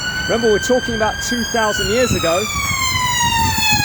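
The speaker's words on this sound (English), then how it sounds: "Sorry about the noise, just a London ambulance over here." A London ambulance siren passes, its loud two-tone wail sliding steadily lower in pitch as it goes by, under a man's continuous speech.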